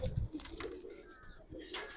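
A Giribaz pigeon, a Palla-line flying breed, coos softly nearby in a couple of short low rolls, faint and close, with no voices over it.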